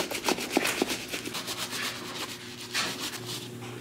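Soapy suds being scrubbed around a winter boot with a brush, producing steady close rubbing strokes with a few sharper scratchy pulses, fairly quiet and continuous with no talking.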